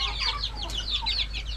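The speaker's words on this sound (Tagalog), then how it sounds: "Yan, daming sisiw pala oh." Newly hatched chicks peep in a dense, overlapping flurry of high, thin chirps beneath a chicken shelter on a free-range farm, with a steady low rumble underneath.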